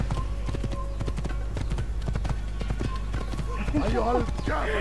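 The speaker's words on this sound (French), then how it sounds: "un cheval qui me barre la route." Rapid clip-clop of galloping horse hooves drums on steadily in Assassin's Creed, ending with a horse's whinny, all over a low engine-like hum of game sound.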